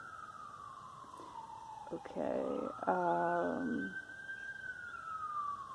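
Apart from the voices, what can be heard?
police car sirens in the distance, New York City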